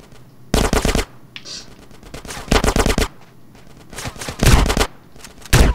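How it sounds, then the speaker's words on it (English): Gunfire in GTA San Andreas, loud close bursts of rapid automatic shots repeating in several volleys with short pauses between, clattering and dense. "Who's shooting at me?"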